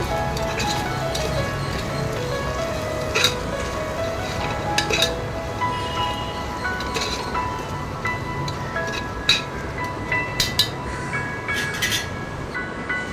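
Chili powder and salt are stirred into a sautéing onion, mint and coriander mixture in a pan for chicken biryani, metal spoon clinks and scrapes ringing out irregularly over a steady low sizzle, close, with no talk.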